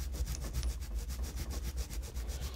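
A diamond file works a plastic Mini-Z RC car part with quick, quiet back-and-forth rasping strokes in a steady rhythm, close and faint with no voices.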